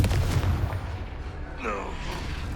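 A Confringo blasting curse goes off in Hogwarts Legacy, a loud boom with a rumbling low-end tail and a brief crackling whoosh afterward, with voices around it.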